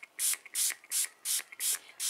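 A hand sprayer misting fungicide solution onto a diseased cattleya orchid, six short hissing bursts in a quick even rhythm, close and crisp, with no talking.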